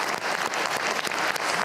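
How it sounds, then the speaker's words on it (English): Audience applause at a large press conference welcoming a guest, a dense, even wash of many hands clapping, fairly loud and sustained throughout. "Let's give a round of applause to a hero of Russia."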